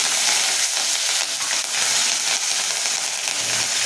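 Mustard seeds, urad dal, cumin, two dried red chillies and curry leaves crackling and sizzling in hot oil for a pasibaruppu sambar tempering, a steady close-up hiss with dense popping and no talk.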